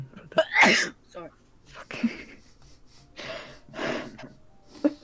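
A person sneezes sharply and loudly once near the start, followed by breathy gasps and scattered speech from people nearby.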